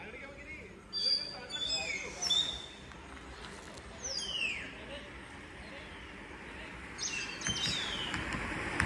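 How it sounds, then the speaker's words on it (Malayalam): Birds chirp and tweet in bright, repeated calls over a steady outdoor background, with a few louder bursts standing out near and a murmur of voices underneath. "ഭയങ്കര സൗണ്ട് ഉണ്ട് കിളിയുടെ ഒക്കെ"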